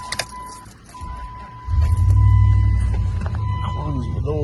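A Dodge Dakota pickup truck cranks and starts, its engine catching and settling into a steady low rumble close by, after a brief key jingle and a faint chime tone.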